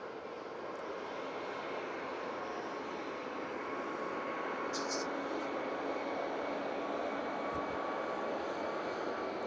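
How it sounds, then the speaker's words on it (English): An Airbus A380 rolls down the runway at Manchester Airport, a faint, distant, steady jet roar that holds even and continuous throughout. "Airbus A380 now rolling."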